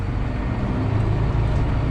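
A John Deere 7810 tractor, engine still fairly cold, pulls away with a dense, steady low diesel rumble that stays loud and close throughout, with no voices.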